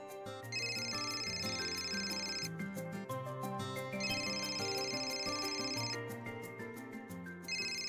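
A telephone ringtone rings in repeated electronic bursts over background music in a Marathi TV serial, with a short pause between each ring and no talking.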